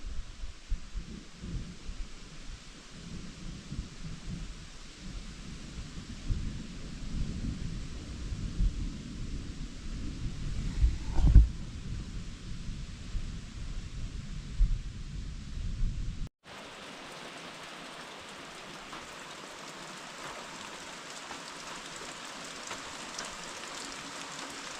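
Steady rain from a thunderstorm falls during a rainy, windy camping trip, a continuous wash of drops with a brief sharp crack partway through; the sound then shifts to a thinner, hissier rain texture.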